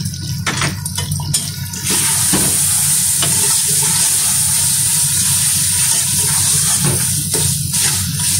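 Water splashes into a hot pan of keema masala, setting off a loud, steady sizzle and bubbling after a few stirring clatters, close up and with no talk.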